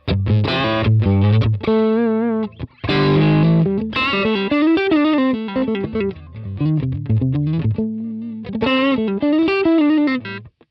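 A Super Telecaster electric guitar on its neck pickup plays distorted single-note melodic phrases and sustained bends, loud and alone, with brief pauses between licks.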